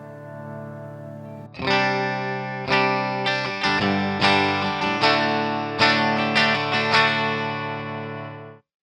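A cheap Amazon Stratocaster-style electric guitar played loud through distortion: a held chord rings, then a run of heavily driven chord strums with sustained, buzzing tones and a sudden stop at the end.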